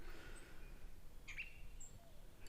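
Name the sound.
birds chirping outdoors in a forest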